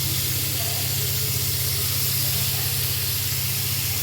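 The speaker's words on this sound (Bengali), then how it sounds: "এবার আমি মেখে রাখা পনিরগুলো একটা একটা করে ছেড়ে দেবো" Marinated paneer pieces hit a hot pan one by one, giving a steady, loud hiss and sizzle that holds unbroken for several seconds with no talking.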